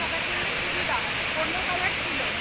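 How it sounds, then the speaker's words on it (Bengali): Water from the kund at Panchalingeswar pours down in a steady, even rush of hiss, close and continuous. "কুণ্ড জল এইখান থেকে নেমে যায় আস্তে আস্তে"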